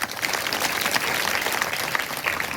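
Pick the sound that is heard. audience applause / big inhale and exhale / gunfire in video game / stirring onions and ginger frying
audience applause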